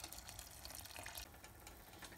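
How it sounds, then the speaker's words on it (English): Two cups of water pour steadily into a cooking pot for vegetarian gravy, a continuous close splashing rush with no voices. "add 2 cups of water."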